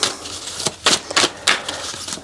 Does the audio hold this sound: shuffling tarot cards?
yes